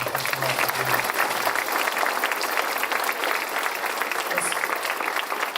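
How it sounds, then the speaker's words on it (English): Audience applause at a community accelerator and childcare business ribbon cutting ceremony, steady dense clapping from a crowd sustained throughout without a break. "Let's give these folks a round of applause."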